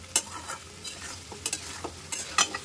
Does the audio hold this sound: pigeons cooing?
no